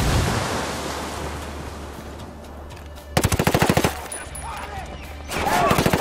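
Gunfire in the shooter game Ghost Recon Wildlands: a low rumbling wash gives way to a loud rapid burst of automatic fire, a pause, then another sustained burst, with a grenade blast likely merged into the roar.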